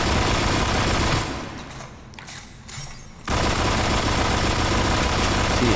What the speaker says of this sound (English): we'll try to burst fire here